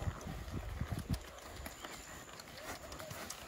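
Horse hooves clip-clopping on the ground during a training session, a series of dull, uneven thuds up close at first that thin out into a steady outdoor background.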